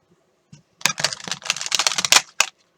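A deck of cards is riffled and shuffled up close, a rapid flurry of crisp flapping snaps lasting about two seconds.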